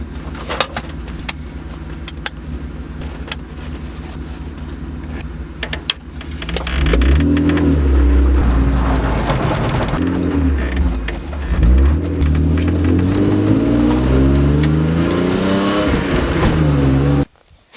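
A BMW E36 starting off and accelerating, the engine note rising and falling through gear changes, loud and close, after a stretch of quieter idling with birds cooing in the background.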